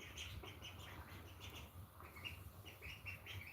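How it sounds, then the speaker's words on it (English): Baby ducklings peeping, repeated thin high chirps in quick irregular bursts, faint and close, with no talk. "now they're just making little baby peeping noises."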